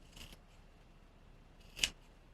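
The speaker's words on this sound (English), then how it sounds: "anywhere there's a tight curve, put in a relief cut" Scissors snip relief cuts into the curved seam allowance of fabric for a Christmas vest, two quiet close cuts about a second and a half apart, the second sharper, with near silence around them.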